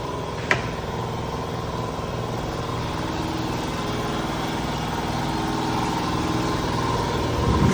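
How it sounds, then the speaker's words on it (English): An air compressor runs in a woodworking shop as a loud, steady mechanical drone close by, with a sharp click near the start, continuing evenly without voices. "My compressor just kicked on."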